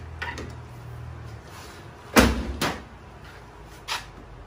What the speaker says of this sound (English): And then when you close your door